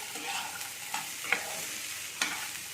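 Potatoes and raw green peas being stirred in a pan, giving a soft, faint frying hiss with a few light scraping clicks spaced apart.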